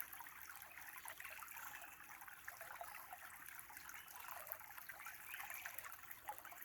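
A creek trickles and burbles continuously, a soft and even flow of water heard alone at low volume.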